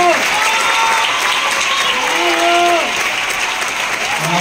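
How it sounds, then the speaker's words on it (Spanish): An audience gives a warm welcoming applause, a loud, steady roar of clapping that continues throughout with some voices underneath. "quiero que recibamos con un fuerte aplauso a la señora Kitty"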